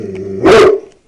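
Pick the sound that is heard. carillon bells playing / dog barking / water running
dog barking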